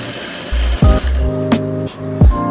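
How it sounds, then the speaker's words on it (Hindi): Sewing machine stitching salwar back and front panels, short loud bursts of motor whir and mechanical clicks at close range over about two seconds, no talking. "पहले आपने एक उठाना है और बैक पैनल को उसके साथ ऐसे करके आपने सिलाई लगा देनी है।"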